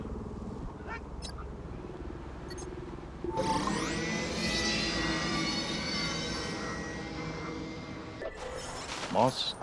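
A landspeeder engine in LEGO Star Wars: The Skywalker Saga starts with a sudden rising whine and settles into a steady, loud hum for several seconds. Talk and small game sounds come before it, and a short burst follows.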